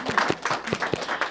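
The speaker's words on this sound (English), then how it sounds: "Give them a round of applause, please." An audience at a school spelling bee claps for the finalists in a short, uneven burst that lasts just over a second.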